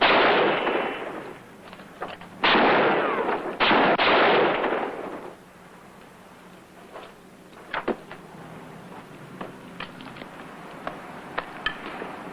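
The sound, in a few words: gunshots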